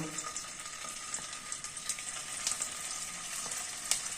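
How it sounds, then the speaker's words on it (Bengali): Small chhana bora, fritters of fresh cottage cheese, fry in oil and give a soft, steady sizzle dotted with tiny pops and crackles, heard alone at a low level throughout. "এই যে আমি ছানার বড়াগুলো ছোট ছোট করে বানিয়েছি, এগুলো ভেজে নেব"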